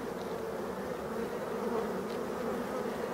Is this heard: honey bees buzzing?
yes